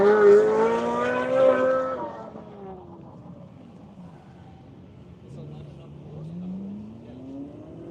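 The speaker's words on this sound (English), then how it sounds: "here's the Michelin Corvette about to take off" A Michelin Corvette race car pulling away at an airfield event, its engine revving loudly and climbing through gears before fading into the distance while other engines drone further off.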